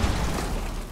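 A Rainbow Six Siege in-game explosion: a loud, dense, rumbling blast that fills the whole short moment without letting up, with no voices over it.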